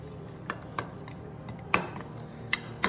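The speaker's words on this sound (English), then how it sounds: "And I'll just stir that up." Flour and water sourdough starter stirred in a container, soft scraping with several sharp clinks of a utensil against the jar at irregular intervals, close and quiet.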